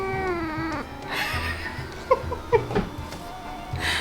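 A cat meows in a drawn-out, wavering call, then purrs softly at close range with a few small chirps, while a person nearby speaks to her quietly.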